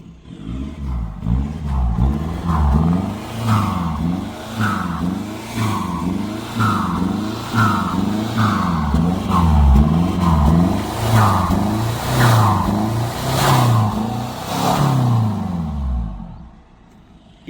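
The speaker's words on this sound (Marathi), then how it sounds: "इथं आवाज काढूया का गाडीचा?" A car engine revs repeatedly in short, rhythmic bursts, rising and falling in pitch, loud and nearby before cutting off at the end.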